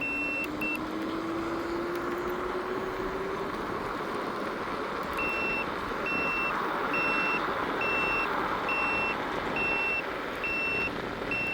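Repeating electronic warning beeps from a Ninebot F2 electric scooter on a night ride, a steady evenly spaced pulse over constant wind and road rumble, with a rising tone at the start.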